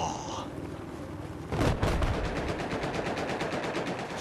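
Rapid automatic gunfire in Battlefield 4 erupts after a brief quiet stretch, a loud sustained burst of evenly spaced shots that continues to the end.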